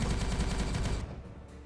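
Rapid gunfire in the Warhammer 40k Regicide video game, a dense, loud burst of repeated shots for about a second that cuts off into a fading tail.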